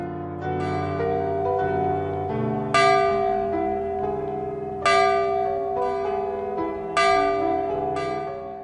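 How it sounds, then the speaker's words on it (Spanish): Bells ring out in repeated, resonant peals, with several strikes overlapping into a shimmering, sustained chime. "Las campanas de la iglesia tocaban jubilosas ese día 23 de marzo."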